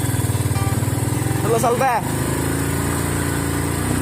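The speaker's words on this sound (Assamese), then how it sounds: "একেখন বাইকতে তিনিটা আহিছোঁ" A motorcycle carrying three riders putters steadily close by with a rapid, even engine pulse while a voice briefly speaks over it.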